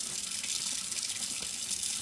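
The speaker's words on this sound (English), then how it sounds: "shut off your water with the towel." Tap water running steadily into a sink, a constant close splashing hiss with no voices over it.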